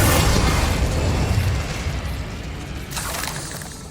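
The Bombarda spell explodes in Hogwarts Legacy as a loud, close burst that decays into a rumbling tail, followed by a second softer crack near the end.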